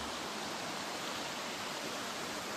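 Waterfalls and a mountain stream in a rocky canyon ravine make a constant, even rushing wash of water, steady throughout with no voices.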